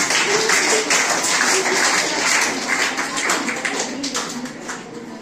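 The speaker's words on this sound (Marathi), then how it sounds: "जोरदार टाळ्या" Applause from a classroom audience at a general knowledge quiz, a dense burst of clapping that holds steady and then slowly thins toward the end.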